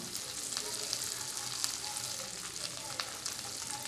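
Carrots with chopped garlic and ginger fry in a pan, giving a steady close sizzle with small crackles throughout and no talking.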